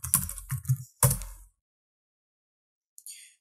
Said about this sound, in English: so we're just going to type it in.